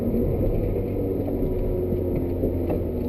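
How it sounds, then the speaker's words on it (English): A 2005 Suzuki Ignis Sport with the 1.5-litre M15A engine drones steadily from inside the cabin, a loud, even low hum with a constant whir and no talking. "Now there's a lot of engine noise."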